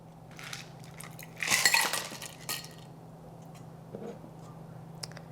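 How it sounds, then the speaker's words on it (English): Ice cubes drop into a drinking glass with a quick cluster of bright clinks and rattles, followed by a few scattered lighter taps over a faint steady hum. "on top of this, we are going to add our ice"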